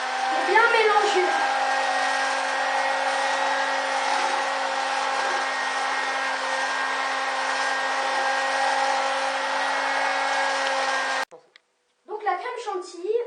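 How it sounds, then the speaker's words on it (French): An electric hand mixer beats tiramisu cream in a bowl, giving a loud, steady whir for about eleven seconds before stopping abruptly, and a voice talks briefly afterward. "Et on va recommencer à battre. Donc, on continue à battre. Pour bien mélanger."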